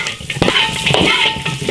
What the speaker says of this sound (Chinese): 翻炒均匀就可以了